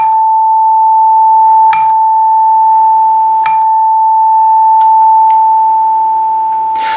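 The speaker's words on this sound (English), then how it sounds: "When you ring the rear door, you pretty much get exactly what you would expect to get," NuTone L37 clock chime sounding a single sustained high note, ringing steadily with a long even decay and a couple of faint clicks, no talking.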